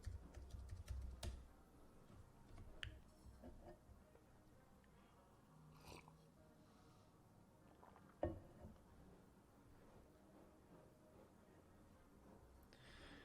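Keystrokes on a computer keyboard, tapping in irregular clusters with a louder burst near the start and a sharp click around eight seconds, fairly quiet against a soft room hum.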